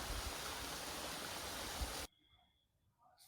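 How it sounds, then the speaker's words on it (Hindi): Waterfall at Mandu in Madhya Pradesh, with water dropping into a gorge during monsoon: a loud, steady, dense rush of falling water for about two seconds, then an abrupt cut to near silence. "सामने ही ये पानी नीचे खो में एक फॉल्स के रूप में गिरता रहता है"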